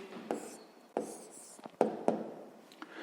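A pen scratches out a handwritten answer to a sixth-grade math exercise, with faint intermittent strokes and light taps close by, quiet and without talking.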